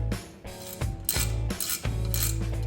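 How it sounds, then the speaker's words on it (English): An Allen key threads the caliper guide pin bolts on a BMW E36 front brake, giving a close mechanical ratcheting and clicking in short bursts with brief pauses between turns. "you grab your Allen key and you start threading these in"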